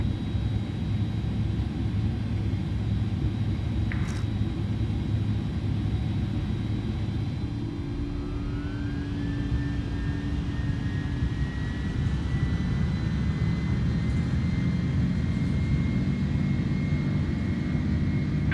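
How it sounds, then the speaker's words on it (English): An Airbus A310 on a flex takeoff in Microsoft Flight Simulator 2020, a constant loud jet engine roar with a rising whine joining midway, steady throughout and without speech. "I'm going to see if we can do the flex takeoff after all"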